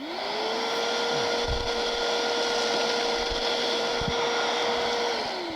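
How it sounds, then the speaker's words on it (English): Vacuum cleaner sucking up plaster dust below an interior ceiling: it whines up as it starts, runs as a loud, steady close drone with a few faint knocks, then winds down at the end. "So I'm going to turn this vacuum on and vacuum it up."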